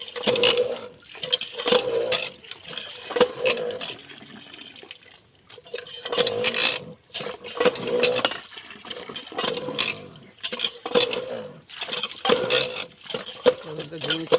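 Chillies are washed in water, with repeated sloshing, splashing and rubbing in bursts, close by, alongside some clinks of a utensil.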